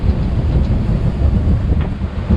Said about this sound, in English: so we're just using the wind to get south. It is freaking howling.